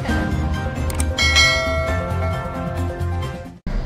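A bell-style notification chime rings out over background music in a Marathi news broadcast's subscribe prompt, with bright metallic dings before a brief cut near the end.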